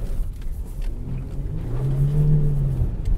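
A Jaguar F-Pace SUV engine revs up, its low rumble rising steadily in pitch and loudness before easing off, heard close and without any talking.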